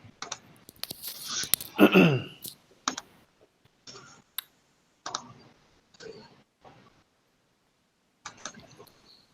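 Sparse, irregular clicks of keys being typed on a computer keyboard, with a short stretch of someone talking early on and quiet gaps between taps.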